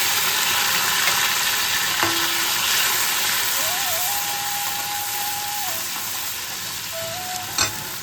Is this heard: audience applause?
no